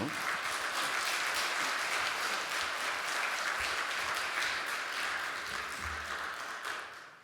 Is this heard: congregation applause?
yes